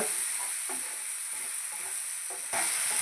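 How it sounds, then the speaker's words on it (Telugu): Chicken pieces with a half spoon of turmeric fry in a pan for a village-style chicken fry, giving a steady close sizzle with occasional scraping stirs, slightly louder near the end. "ఇదంతా కొంచెం మంచిగా వేయించుకోవాలన్నమాట"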